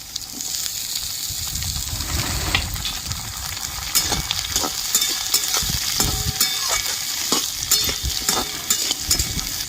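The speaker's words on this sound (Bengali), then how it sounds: "হালকা লাল করে ভেজে নেব" Steady sizzling of pumpkin pieces and onion frying in hot oil, with occasional stirring clatter and crackle throughout, fairly loud and close.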